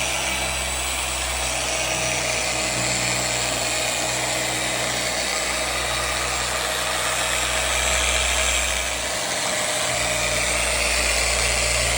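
A car polishing machine runs at speed 3 while buffing the paint of a Lotus, giving a steady loud motor whine and hum with a faint dip near the end, with no talking.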